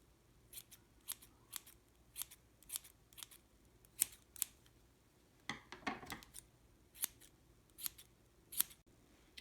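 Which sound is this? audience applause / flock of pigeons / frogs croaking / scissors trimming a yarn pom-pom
scissors trimming a yarn pom-pom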